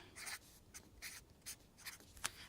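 A hand writes out a long mathematical equation in short, scratchy strokes with small pauses between them, close and fairly quiet, with no voices.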